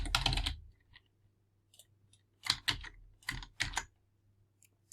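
Bursts of computer keyboard typing as a password is entered, clustered key clicks in short runs separated by pauses, close and fairly clear over a faint steady hum.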